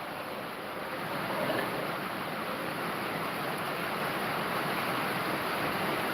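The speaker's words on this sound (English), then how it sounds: "Sorry about the rain noise, y'all." Steady rain falling outdoors, a dense, even hiss that stays constant and fairly loud throughout, with no voices.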